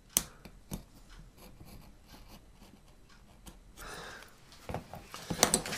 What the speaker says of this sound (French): Le Tetra Pak se découpe simplement au cutter.